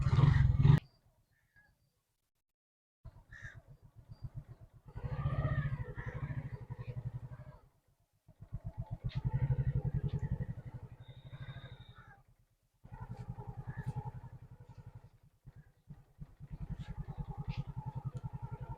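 A motorcycle is wheeled out and started, its engine putting in a rapid pulsing beat that comes in several bursts separated by short silences, close by and moderately loud.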